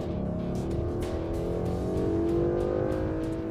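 A Ford V8 revs hard to around 7,000 RPM, its engine note rising and holding in a loud, steady roar throughout, with no talking over it.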